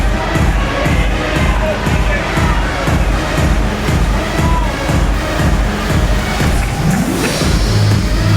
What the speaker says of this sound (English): Please give a big round of applause for the